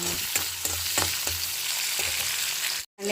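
Tomato frying in a pan for peanut chutney, a constant close sizzle broken by a few spatula taps and scrapes, cutting off abruptly near the end.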